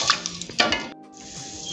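About a cup of water is poured into a pot of wheat dalia being made into sweet milk porridge, a short, close splashing pour that swells and then trickles off.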